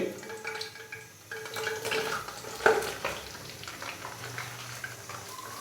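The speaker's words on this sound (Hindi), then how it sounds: "तो अभी हम ऑयल के अंदर भिंडी डालेंगे।" Chopped okra fries in hot oil in a pan, a steady close sizzle with bubbling and a few sharper crackles partway through.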